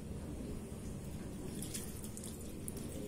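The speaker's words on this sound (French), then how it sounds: "Je vais rajouter encore de l'eau parce qu'il n'y a pas assez." Water pours from a tap into a cooking pot as more water is added for boiling carrots with salt, a steady close rushing splash running throughout.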